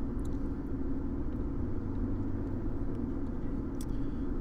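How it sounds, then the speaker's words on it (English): A car drives through traffic on a road into Texas, its engine and tires making a steady low rumble from inside the cabin, even and unbroken, with a few faint high clicks. "Sorry, I'm driving through traffic,"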